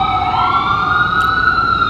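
An ambulance siren sounds on a New York City street, loud and close. Its steady wailing tones sweep gradually over a low traffic rumble with no voices.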